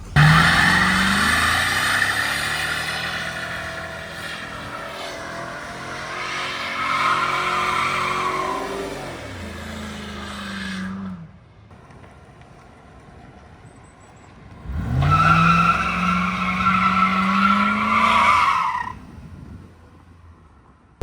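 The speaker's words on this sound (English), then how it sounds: "we're gonna hop out and do a nice little burnout" A V8 rear-wheel-drive car doing a burnout, loud close engine revving with long screeching tire squeal, then a quieter idle gap before a second roaring rev and squeal burst.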